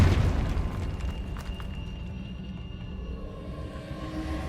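A Confringo fire blast spell in Hogwarts Legacy goes off as a heavy, booming explosion with a deep rumble that fades into a low, sustained roar, heard alone without talk.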